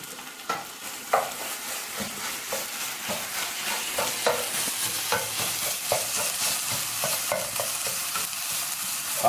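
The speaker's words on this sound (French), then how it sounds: "pendant que le steak est cuit, je lui envoie une bonne dose de ketchup allégé" Steak sizzling in a frying pan with repeated stirring and scraping clicks over a soft, steady fry, close and fairly quiet.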